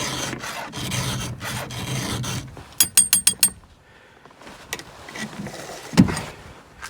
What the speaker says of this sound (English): I just keep sharpening until until it's good and sharp.